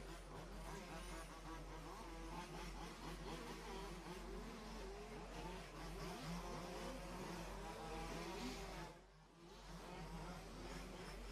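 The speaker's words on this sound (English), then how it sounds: "cars for the semifinal B of two-wheel drive out on the track now" Large-scale off-road two-wheel-drive RC race cars running on the track at a European championship semifinal, a continuous buzzing, whining engine drone from several cars, steady and fairly distant, with a brief dip near the end.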